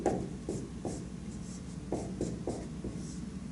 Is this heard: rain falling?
no